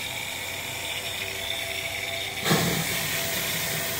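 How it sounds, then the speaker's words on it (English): Steam blower on a Raymond steam boiler hissing steadily, forcing air up under the fire; a loud continuous close hiss that surges slightly stronger partway through. "Using steam to fuel the fire with air from down below."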